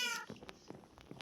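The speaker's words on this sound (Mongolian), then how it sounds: "За манай муур тэнд байгаа." A pet cat at home gives a brief, faint meow, followed by a few soft clicks and rustles close by.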